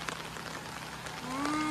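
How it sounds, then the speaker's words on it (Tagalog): Light rain patters faintly and steadily on a roof, a soft even hiss with a tonal whine rising near the end. "Ay, ulan. Baha na."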